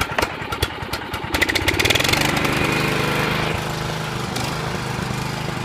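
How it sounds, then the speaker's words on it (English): A John Deere JX75 walk-behind lawn mower engine cold starts on the first pull with the blades disengaged, sputtering briefly before settling into a steady, close, loud idle. "Cold start, first pull, excellent mower."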